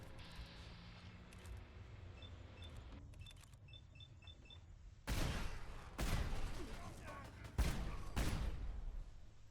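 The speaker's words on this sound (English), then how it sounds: "Stop shooting me!" Enemy gunfire in Fallout 4: three heavy bursts of shots crack close by, separated by short gaps. Quieter engine-like hum and beeping game sounds come first.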